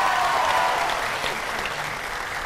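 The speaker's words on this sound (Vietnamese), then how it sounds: "Vỗ tay lớn lên quý vị." A studio audience claps loudly and steadily on a Vietnamese dating game show, a dense wash of many hands that eases slightly in volume over its brief span with no voices over it.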